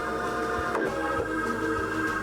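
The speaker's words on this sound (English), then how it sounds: "I swapped to embroidery mode and I calibrated the embroidery unit" A PFAFF Creative Icon 2 sewing machine's embroidery unit calibrates, whirring and buzzing briefly as its motors shift and stop, close and fairly quiet.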